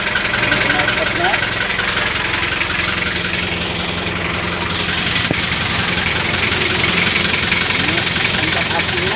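An old Daihatsu Delta truck engine idles while warming up, with a loud, steady, low rumble and a faint knocking that runs unbroken and close throughout.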